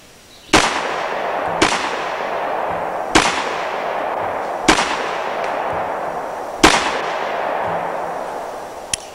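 Gunshots from a gun fitted with a muzzle compensator: six loud, sharp reports spaced about a second or more apart, each followed by a lingering echo that rings out over the open range, with no talking.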